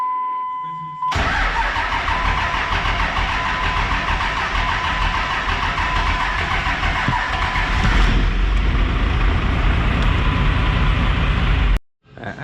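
A hotshot truck engine cranks and fires after a transmission swap, settling into a loud, close, rough idle that holds steadily before cutting off abruptly at the end.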